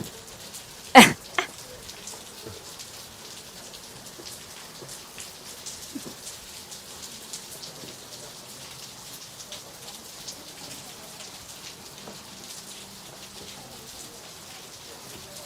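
Steady rain patters across the surface of an outdoor swimming pool during a freediving championship, a dense even hiss with one brief loud burst near the start and no talk.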